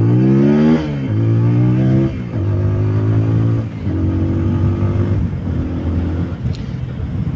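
A TVS Apache 200 BS6 2022 motorcycle engine revs up hard through repeated gear changes, pitch climbing and dropping several times, loud and close with no talking.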